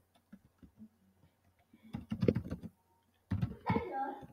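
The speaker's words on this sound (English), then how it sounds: "so I'm going to type the overview" Typing on a computer keyboard, with a few sparse soft taps followed by quick bursts of close key clatter separated by a short pause.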